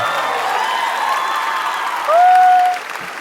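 A studio audience applauds two Vietnamese contestants, Gia Hưng and Rinne Tsujikubo, on a mental calculation competition show; steady clapping runs throughout, with a brief bright tonal sting cutting in near the end.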